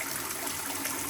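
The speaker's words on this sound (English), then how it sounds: "I turn on the hot water because I have really like hot scalding water. And I just let it run" Hot scalding tap water runs steadily into a sink drain in a French apartment, a loud, continuous splashing rush with no pauses.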